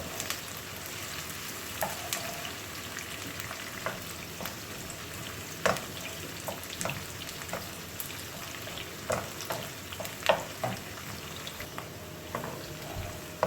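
Onions frying in oil in a pan on a low gas flame for a mixed vegetable curry, a steady crackling sizzle with occasional louder pops and utensil clicks throughout, close and continuous.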